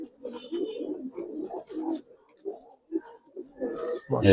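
Giribaz pigeons coo close by in a loft, a run of soft, repeated throaty coos with brief pauses, ending in a sudden louder thump.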